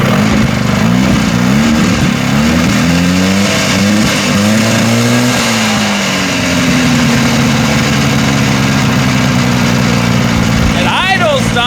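A 1974 Johnson 440 outboard motor idles loudly up close, its engine note dipping and rising unevenly before settling into a steadier run, with talking over it.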